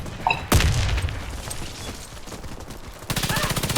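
Gunfire from a multiplayer shooter match with bomb objectives, heard as a loud burst near the start and then a rapid automatic volley toward the end, alongside other game effects and a player talking.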